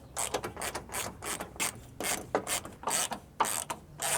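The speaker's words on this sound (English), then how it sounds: "now we can focus on doing the screws." Hand ratchet backing out the grille screws on a 2014–2021 Toyota Tundra, a steady run of close, crisp clicking bursts repeating in quick strokes with no talk.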